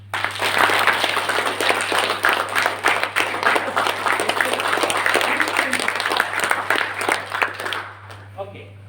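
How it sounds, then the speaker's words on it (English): A workshop audience claps steadily for about eight seconds, dense and fairly loud, with a hum underneath; the clapping stops near the end and a few faint sounds follow. "And clap once."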